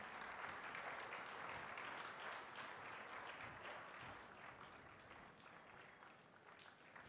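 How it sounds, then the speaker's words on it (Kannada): An audience applauds at a felicitation ceremony with a singing performance. The clapping is faint and distant but steady, and it eases off slightly toward the end. "ಚಪ್ಪಾಳೆ ಬರ್ತಾನೆ ಇರಲಿ"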